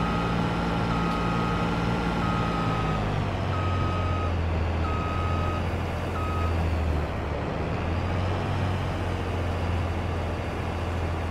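A vehicle's reversing alarm beeps in a steady repeating pattern over a constant low engine drone in Farming Simulator 22, loud and close throughout with no talk.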